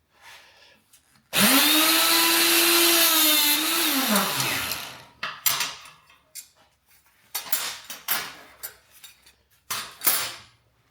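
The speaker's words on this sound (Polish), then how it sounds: "Teraz będziemy rozwiercać te otwory." A power drill boring out holes in a homemade garden hose hanger: a loud steady whine that winds up, holds for about three seconds and spins down, then a run of scattered handling clatters and knocks.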